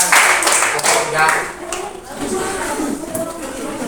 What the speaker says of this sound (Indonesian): Sekarang berikan tepuk tangan ya